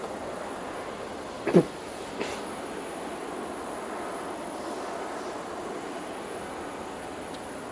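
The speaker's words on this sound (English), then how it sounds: "Okay, so that's your basic aircraft takeoff." A jet aircraft engine roars steadily as the plane takes off in the military game Arma 3, a broad, even rush of noise with one or two brief louder knocks near the start.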